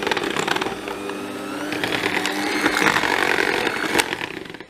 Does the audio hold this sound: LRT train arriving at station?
no